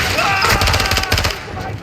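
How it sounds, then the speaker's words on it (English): Rapid gunfire in the Call of Duty: Modern Warfare 2 campaign, a dense, loud barrage of overlapping automatic shots and booms that fills the whole stretch without a break. "crash site is taking rocket fire from building 2"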